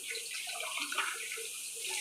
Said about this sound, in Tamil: தேங்காய் பால் சேர்த்துக்கணும்.